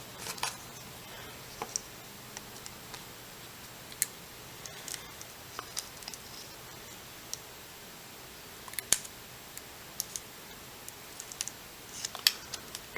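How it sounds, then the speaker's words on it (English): Quiet snipping as scissors cut heat shrink tubing, a few sharp clicks scattered irregularly over steady low background noise, close by and faint. "Guess I should probably use scissors."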